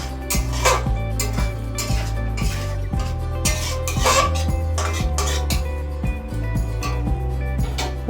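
Potol chingri curry (pointed gourd and prawn) stirred in a pan, with a steady run of metal spoon scrapes and clinks against the pan at close range over a continuous cooking hum, no voices.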